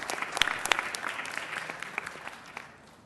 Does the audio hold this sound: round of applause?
yes